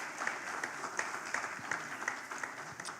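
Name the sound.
audience applause for a speaker at a forum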